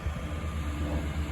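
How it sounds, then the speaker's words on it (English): Tractor working close by at the edge of a field, a steady low engine rumble with broadband noise, loud and continuous with no voices. "That noise you can hear is because the tractor's actually quite close to me now."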